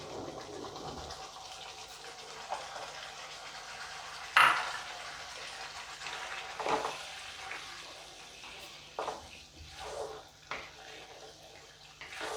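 Paneer pasanda gravy being stirred in a pan after a splash of water goes in: a faint, steady low simmer and sizzle with occasional soft scraping and tapping of the spoon, quiet and with no voices.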